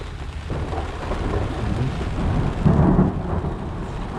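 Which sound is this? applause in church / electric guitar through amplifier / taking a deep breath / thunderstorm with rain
thunderstorm with rain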